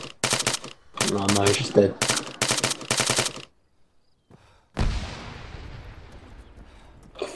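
Rapid bursts of automatic gunfire crack through an ArmA 3 co-op battle, a sniper and machine guns trading shots in quick rhythmic volleys that pause, then a single heavy blast with a long rumbling decay; a voice speaks briefly during the firing.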